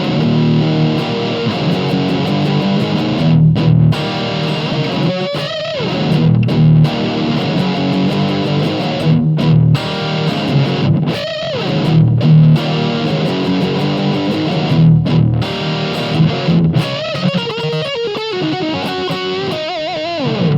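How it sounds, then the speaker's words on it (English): Overdriven electric guitar through a Blackstar Silverline Standard valve amp on the Overdrive 1 channel, gain about halfway, with light room reverb; a sustained, distorted riff of chords and single notes plays loud and continuous, with no talking. "Overdrive 1 channel, gain on about halfway, bass, middle and treble all sort of just past 12 o'clock, ISF all the way to the right"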